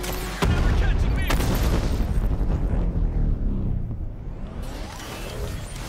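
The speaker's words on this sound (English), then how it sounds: "I'm taking enemy fire" Enemy gunfire in Batman: Arkham Knight bursts in loudly and keeps up as a dense, continuous barrage of shots and booms for several seconds before thinning out.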